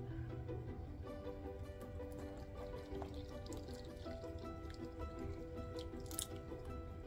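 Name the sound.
pouring buttermilk into flour well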